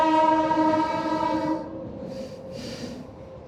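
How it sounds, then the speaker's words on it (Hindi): A train passes a closed railway crossing, its horn blaring loud and sustained before cutting off, followed by the rumble and clatter of rolling cars and a couple of brief hissing bursts. "देखते हैं कौन सी ट्रेन आ रही है।"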